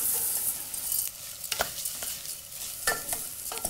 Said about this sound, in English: just tip in, oh, this is 225 grams of rice basmati